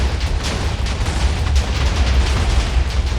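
TNT explosions in a video game rumble together as a dense, continuous low boom with crackling bursts layered over it. The roar stays loud and steady throughout, and no voices are heard.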